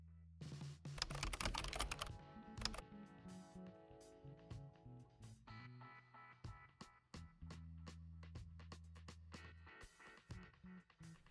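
Keys clack on a computer keyboard while form fields are filled in, an uneven run of close, crisp taps with short pauses over a faint musical backdrop.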